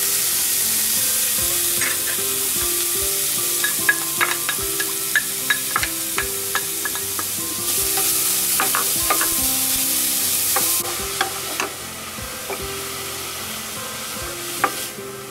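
Grated beetroot stir-fried in a pan for beetroot halwa, a steady loud sizzle with repeated spatula taps and scrapes throughout, no speech.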